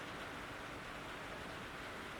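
Rain falls steadily on a tin roof over a pool. It makes a dense, even hiss close by that does not let up, with no voices.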